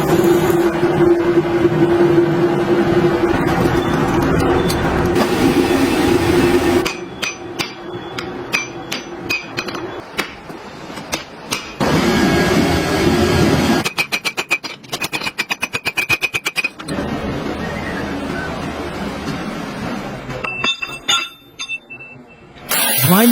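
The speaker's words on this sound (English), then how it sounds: "Grinding away this hardened steel takes serious patience." A power grinder cuts into hardened steel from an old, rusted railway track as it is shaped into an axe, a loud continuous harsh grinding roar that rises and drops as the tool is applied and lifted.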